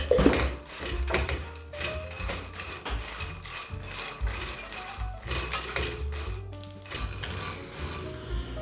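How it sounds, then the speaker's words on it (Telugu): Makhana (fox nuts) roasting with a little oil in a pan on the stove give a continuous rattling, scraping texture as they are stirred and tossed against the metal, steady throughout with no talking. "ఈ మఖానా ఏదైతే ఉందో రోస్ట్ చేసుకుంటున్నాను"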